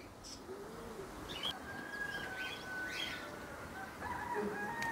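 Pigeons coo softly at a distance, a few faint murmuring calls and chirps over a quiet outdoor background, with no talk.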